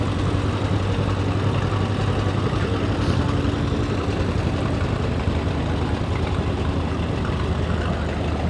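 A 1955 John Deere tractor engine rolling past in a Memorial Day parade, a steady low rumbling drone that holds evenly throughout, fairly close, with general outdoor crowd ambience and no clear speech.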